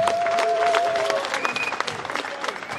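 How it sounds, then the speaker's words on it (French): Crowd applause breaks out at a customary wedding ceremony for Christina Oborabassi and Ange: steady, dense clapping from many guests that fills the room, with voices and a tonal sound faintly mixed in. "On peut encore acclamer, s'il vous plaît."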